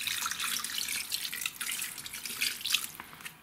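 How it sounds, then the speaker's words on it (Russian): Water pours into a kazan of tomato-paste stew, a continuous bright splashing and trickling stream, close and moderately loud for a few seconds with no talking. "И вылим туда водички."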